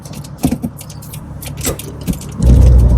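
A car driving through London streets, with low engine rumble and road noise, a few knocks and clicks from inside the cabin, and a louder, steadier surge of engine and road noise toward the end, no talking.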